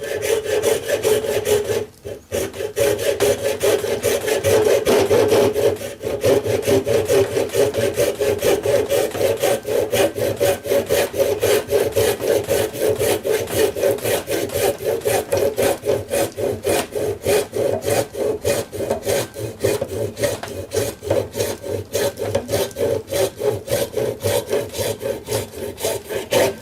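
Steady, rhythmic saw strokes cut down the side of an old chisel, a close, rasping back-and-forth that repeats evenly with only one brief pause early on.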